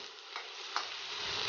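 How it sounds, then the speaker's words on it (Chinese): Food stir-fried in a wok over high heat gives a continuous close sizzle with a couple of brief scraping clinks, holding steady and loud throughout. "现在大火爆炒才有锅气"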